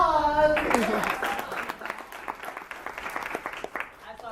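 Applause from a drama summer camp group follows a brief voice at the start, with scattered claps continuing steadily for several seconds at moderate loudness.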